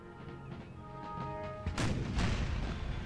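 Artillery fires on Union cavalry in an American Civil War video game, a dull boom opening a rumbling roll of cannon fire under a steady hum of battle noise.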